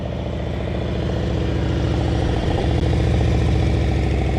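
A motorcycle engine turns over at a low, even throttle during slow-speed riding practice, a loud, close, continuous mid-range drone with only slight swells in pitch.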